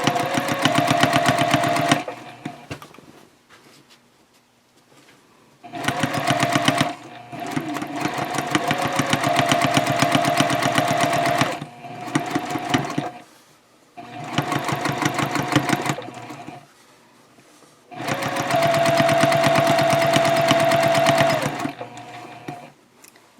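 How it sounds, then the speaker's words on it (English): Domestic sewing machine stitching over the handle of a fabric shopping bag, loud steady motor whirring in four separate runs of a few seconds each, with quiet pauses between them. "just sew right over where your handle is"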